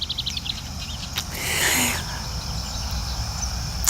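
Insects and birds call across a rural outdoor setting, a steady chirring insect drone with scattered bird chirps, plus a brief louder broadband swell in the middle, moderately distant and continuous throughout.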